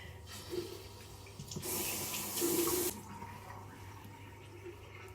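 Tap water runs into a sink during a face wash with a foaming cleanser, a steady splashing stream that swells louder midway and then eases off, with no talking.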